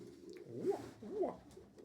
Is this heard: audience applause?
no